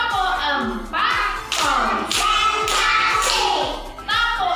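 Children in a classroom clap their hands together in a steady, quick rhythm during a counting clap game, the sharp slaps repeating evenly throughout while loud voices chant along over the claps.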